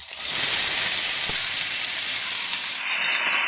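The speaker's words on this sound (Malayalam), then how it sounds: "കടുക് കൂട്ടി നമുക്കിതിലേക്ക് കറിവേപ്പില ഇട്ട് കൊടുക്കാം" Curry leaves drop into hot oil with mustard seeds and set off a loud, steady hiss of sizzling that lasts almost the whole moment before easing off near the end.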